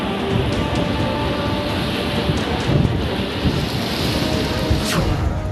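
Flooded Venu river water surging through the Umiya Mataji temple grounds in Jamnagar, a continuous broad roar of rushing water with wind buffeting the microphone and no speech.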